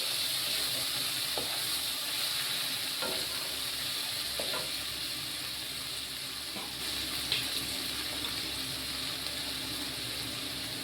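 Kashmiri chili powder frying in a pan, a steady soft sizzle with occasional scrapes and taps of stirring, close and continuous with no talk.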